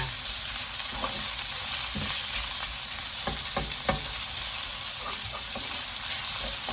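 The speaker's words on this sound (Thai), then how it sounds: "ก่ออื่นก็ทำให้หมูแตกนเนาะ เพราะหมูสับมันเป็นก้อนนะคะ ผัดให้หมูสุกก่อนค่ะ" Minced pork stir-frying in a pan for a Thai oyster sauce dish with sesame oil, a steady loud sizzle broken by scattered scrapes and taps of a spatula, with no talking.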